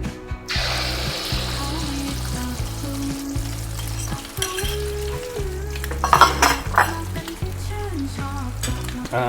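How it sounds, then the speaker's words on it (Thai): Beaten egg for a Thai crab omelette poured into hot oil, erupting into a loud, close, crackling sizzle that rises sharply and keeps frying steadily, with light scrapes and clinks of a utensil against the pan. "ตอนนี้น้ำมันเราก็ร้อนได้ที่เลยนะครับ เดี๋ยวเราจะทำการ เอาไข่ลงไปใส่เลยครับ"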